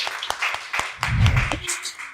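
A short burst of audience clapping greets a guest singer on a talk show, a scattered patter of hands that swells briefly with a low thump and then thins out.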